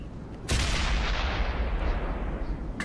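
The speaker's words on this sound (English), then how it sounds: "Yep, we got a shot on that Panzer II." A tank cannon fires at a Panzer II in the World of Tanks video game, one sudden heavy boom followed by a long rumbling roar that stays loud to the end.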